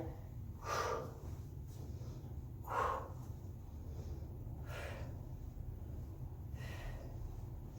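Audible breaths during a home workout exercise, several soft exhales and inhales spaced a couple of seconds apart, close and quiet over a low steady hum.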